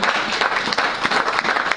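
A church congregation breaks into steady, dense applause during a French-language sermon, the clapping close and sustained from start to finish with no voice on top.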